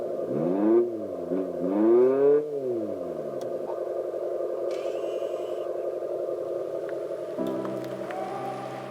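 An Abarth 500e electric hot hatch on the move gives off a steady, fairly loud synthetic engine-like drone, with sweeping pitch rises and falls early on as it accelerates, then a sustained hum with slight shifts.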